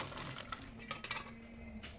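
A cooking pot of pumpkin and potato curry is lifted off the stove, giving a few faint metallic clinks and knocks of pot against burner over quiet kitchen background.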